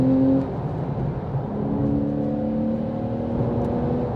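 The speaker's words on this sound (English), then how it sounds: "That sound from the exhaust is absolutely phenomenal, and the naturally aspirated flat six engine that Porsche has perfected over so many years is out of this world." A Porsche 911 991 Carrera S Martini with a naturally aspirated flat-six engine pulls hard in third gear near 57 mph, its exhaust rising in a loud, steady, droning whine with no talk over it.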